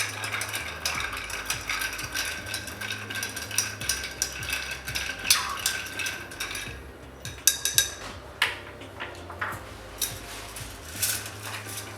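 A cocktail being stirred in a glass or shaker, heard as a busy run of close, rapid metallic clinks and ticks with uneven bursts, steady for a long stretch and without talk.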